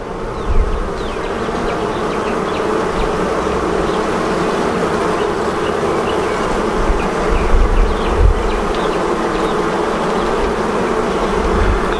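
Honeybees buzz steadily in an open hive during inspection, a dense, continuous drone of many insects close by, with a few dull bumps underneath.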